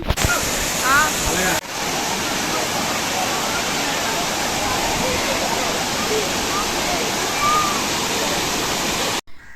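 A waterfall at Lambasingi roars in a steady, loud rush of falling water that fills the whole scene. A few voices are faintly audible under the continuous roar.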